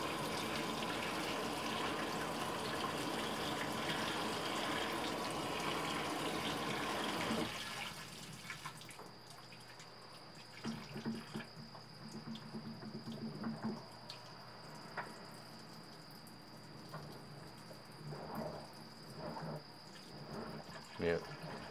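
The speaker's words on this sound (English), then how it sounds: "So it's going to agitate it a little, make sure that it gets all the soap out." LG WT1101CW 4.1 cu. ft. high-efficiency top load washer during its rinse cycle, water rushing in steadily at first, then quieter sloshing and small agitating motions with occasional soft thumps.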